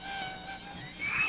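A mosquito buzzes loud and close in a dengue prevention announcement, a continuous high-pitched whine with wavering pitch, heard alone without speech.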